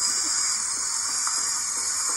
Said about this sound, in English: With the sound of a dentist drill, the dress slowly unfolds like an umbrella.